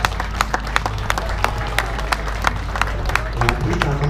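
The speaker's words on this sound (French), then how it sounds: "Donc je pense que Nathalie mérite quelques applaudissements," Audience applause for Nathalie, an amateur rider with a 15-month-old foal at a horse festival: steady crowd clapping with sharp individual claps, loud and close, over a low rumble and murmuring crowd.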